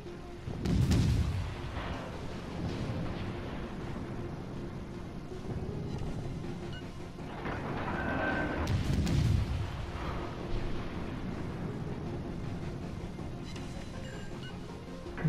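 Heavy booming shots from a gun in a water gun video game, a few deep thumping blasts a few seconds apart over a low rumbling background, with no talking.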